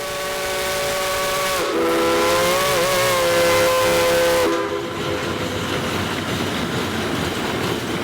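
A steam train whistle in Cass, West Virginia sounds a long, steady, wavering blast over rumbling rail noise, then cuts off, leaving the train's low churning rumble.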